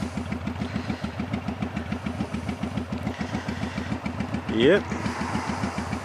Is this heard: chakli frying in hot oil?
no